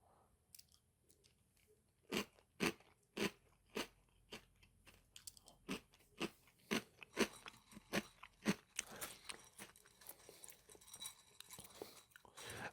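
Crunchy Cravies chocolate protein cereal chewed close to the mic, with a rhythmic run of sharp, loud crunching bites that comes faster and denser toward the end, and no talking.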